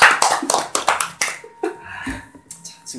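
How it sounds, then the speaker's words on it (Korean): A few people clapping, sharp hand claps in a quick uneven burst that thins out into scattered individual claps, close and loud in a small room. "박수."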